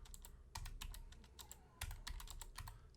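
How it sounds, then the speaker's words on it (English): Fingers type on a computer keyboard with quick, light key clicks in short irregular runs. The clicks are close but quiet, with a few heavier taps mixed in. "as you can see, my keyboard is working"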